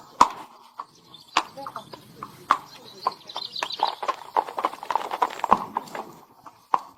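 Horse hooves clip-clop in an irregular rhythm as a horse-drawn carriage moves through the old walled city of Mdina, Malta, with sharp, fairly close strikes and some faint talk in the background.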